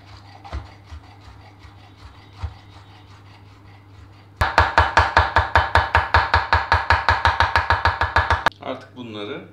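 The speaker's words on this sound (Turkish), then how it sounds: "Biberi de mutlaka ince ince doğrayacağız." A knife finely chopping roasted bell pepper on a cutting board for a Turkish aubergine salad: quick, evenly spaced close knocks in a sustained run of about four seconds, after quieter scattered taps and faint background talk.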